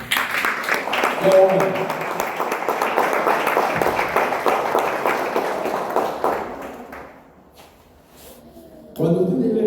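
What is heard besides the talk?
congregation applauding the Lord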